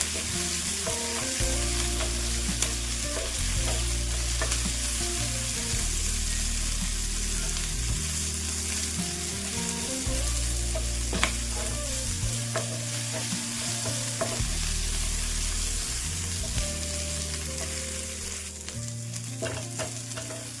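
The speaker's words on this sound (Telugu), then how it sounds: "కరివేపాకు వేగుతుంది కదండి" Curry leaves crisping in hot oil for peanut spice powder, a constant loud sizzle with frequent stirring scrapes and ladle clinks throughout, close with no talk.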